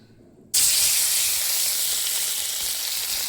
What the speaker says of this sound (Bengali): মাছ দুটো ভাজা হলো, আরও মাছ ভাজা আছে